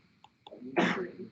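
A single sharp sneeze bursts out after two quick intakes of breath, close and fairly loud, in a quiet classroom during a recorded lecture.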